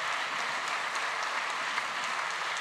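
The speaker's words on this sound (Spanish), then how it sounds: "Quiero que le demos un gran aplauso" An audience breaks into steady, dense applause at the close of a political history talk, with sustained clapping throughout and no speech.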